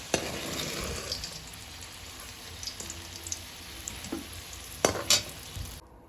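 Mustard oil keeps crackling and sizzling in a pan after fried potatoes are lifted out, a quiet hiss broken by sharp pops and a few louder spattering bursts, close and without voices.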